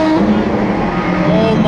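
Loud supercar engines, including a LaFerrari, roar and rev continuously at a car meet, a dense sustained engine drone close to the microphone with no pauses.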